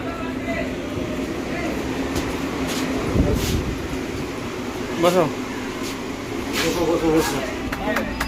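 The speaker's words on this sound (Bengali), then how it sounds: "ট্রেন মোটামুটি ছেড়ে দিয়েছে শিয়ালদা থেকে এগিয়ে আছি ধীরে ধীরে" A local train pulls slowly out of Sealdah station with a steady low rumble, broken by a few louder clunks and squeals of the cars.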